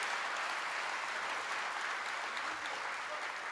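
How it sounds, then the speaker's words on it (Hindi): An audience applauds at a spiritual talk, a steady wash of many hands clapping together from start to end, with no voices standing out above it. "पहले ताली बजा करके इन सब लोगों का अभिनंदन कीजिए"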